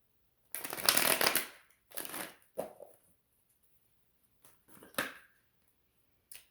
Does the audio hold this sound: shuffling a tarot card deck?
yes